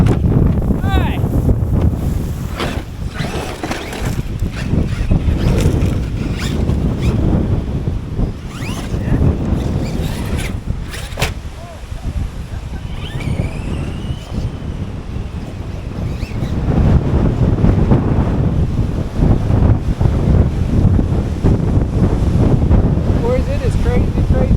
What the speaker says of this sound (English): Boys, it is crazy, crazy windy.